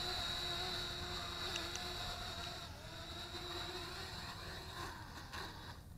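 A Le Idea Idea8 folding selfie drone with position hold runs steadily in flight, its thin rotor whine holding a high tone throughout at moderate loudness, with no talking.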